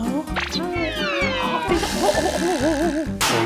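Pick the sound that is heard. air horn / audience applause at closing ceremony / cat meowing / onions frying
cat meowing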